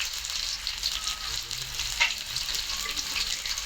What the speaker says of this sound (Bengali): পেঁয়াজ দিয়ে দিলাম, তেল, পেঁয়াজ, 5-7টা কাঁচামরিচ, লবণ দিয়ে দিলাম পরিমাণ মতন।